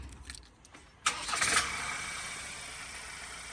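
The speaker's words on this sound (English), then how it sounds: "I'll just show you that auto start again" A Ford Ranger van's engine starts by remote auto start: a sudden crank and catch, then a steady idle hum settling down, heard from nearby with no voices.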